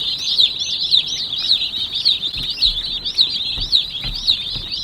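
A flock of about 150 young chicks brooding outdoors in a portable coop, a dense continuous mass of high peeping and chirping, close and loud, with no talking.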